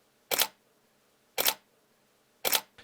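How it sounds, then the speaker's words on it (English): Three separate clicks of a camera shutter firing in single shot mode, evenly spaced about a second apart, crisp and close with silence between them. "this means one fire of the button means one fire of the shutter"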